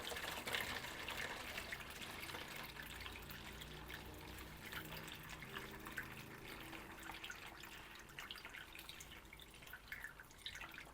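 Homemade chicory kvass pours into a bottle as a continuous, faint, steady trickle with no talking.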